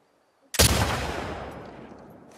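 A single sharp rifle shot in The Last of Us Part II, loud and close, followed by a long fading echo tail that trails off over about two seconds.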